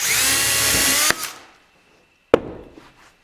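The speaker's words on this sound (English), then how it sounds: "the last thing I'm going to do is drill a hole right at the top" A power drill whirs steadily, bores a hole near the top of a wooden stick and winds down, followed by a single sharp knock and a brief fading rattle.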